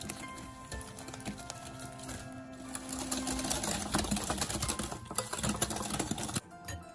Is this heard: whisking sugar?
yes